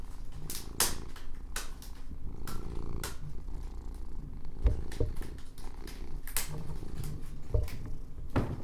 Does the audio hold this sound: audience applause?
no